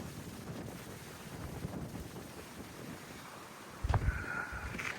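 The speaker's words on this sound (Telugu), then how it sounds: "క్రాస్ విండ్స్ చాలా దారుణంగా ఉన్నాయి," Strong crosswind on a hilltop at Horsley Hills buffets the microphone in uneven rumbling gusts, with a louder, sharper blast near the end and no talking.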